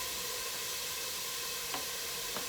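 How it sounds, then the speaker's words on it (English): Onion and garlic sizzle in a hot frying pan during a bean taco cooking demo, a steady soft hiss lasting throughout with a couple of brief louder spits. "the sizzle of the pan"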